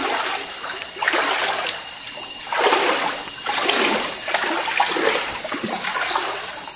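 Shallow water flows through a canyon on a trekking route, a steady close rushing and splashing stream that swells slightly in loudness, heard alone.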